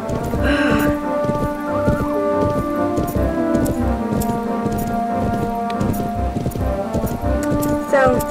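A horse walking with hooves clip-clopping in a steady rhythm, close by, with people talking over it and faint rustling in the background.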